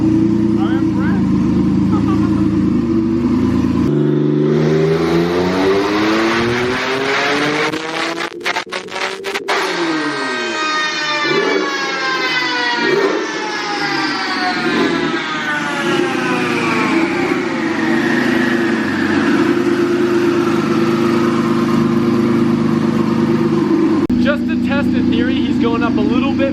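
A forged twin-turbo Z car engine on a dyno revs hard, its pitch sweeping steadily upward through a long pull with a sharp burst mid-run, then drops back to a loud, steady drone.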